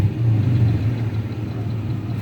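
A 1985 Chevrolet Caprice Classic with a V6 idles on a cold morning, a steady low rumbling drone held close and loud throughout with no talking.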